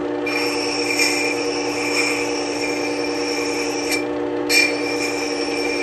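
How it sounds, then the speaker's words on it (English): A wood carving tool is rocked against a spinning sandpaper wheel while being sharpened, giving a steady, close abrasive whir with a tonal hum that briefly drops out near the end before resuming. "cutting or shaping sandpaper wheel, and I will rock the tool like so"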